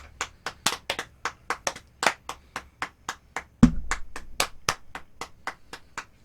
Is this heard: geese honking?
no